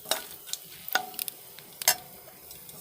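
Whole cardamom, cloves and cinnamon sticks frying in oil over a lowered gas flame, sending out crisp crackles and quick spatula scrapes in an uneven rhythm, close and fairly loud, with no voices.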